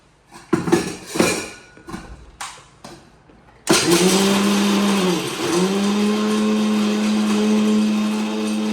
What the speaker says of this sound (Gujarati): કાજુ તો મિક્સિંગ કરીશું પણ અડધા અડધા ટુકડા રહી ગયા છે